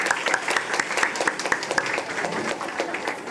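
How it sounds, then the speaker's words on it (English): An audience at a French spelling bee, expo and fashion show claps for two schools, with sharp, fairly regular claps standing out over steady applause at close range. "When I say applaudissez, please, you're going to clap, okay, for those two schools."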